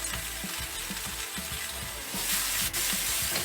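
Peppers and ginger sizzle in a hot stir-fry pan with little oil, a loud, steady hiss and crackle with small pops and stirring, swelling louder near the end with no talking.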